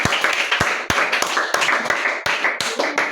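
A church congregation at a children's Sunday school service claps and applauds loudly, steady crisp hand claps with sharp accents repeating throughout, close and full.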